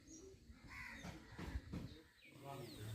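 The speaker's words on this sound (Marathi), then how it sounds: "पक्ष्यांची दिवसाची सुरुवात झाली आहे" Early-morning birds in a Konkan village: faint crows caw a few times, with softer cooing and calls scattered around them against a quiet outdoor background.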